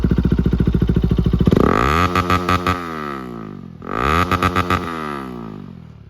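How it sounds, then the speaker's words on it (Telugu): Modified Bajaj Pulsar RS 200 BS3 motorcycle idling loud and close, then blipped twice with sharp revs that rise and fall, the exhaust crackling between throttle bursts. "ఒకసారి దీని ఇంజన్ సౌండ్ అయితే వినిపిస్తామండి."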